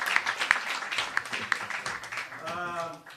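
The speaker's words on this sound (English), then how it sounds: "So, please, one big applause for my helper." Audience applause rings out for a helper at a spiritual talk, a short patter of scattered claps with people speaking over it, ending in a tonal vocal sound.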